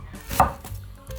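A single knife chop lands on a cutting board as fish cake is sliced for tteokbokki, one crisp close thud followed by softer handling noise, no voices.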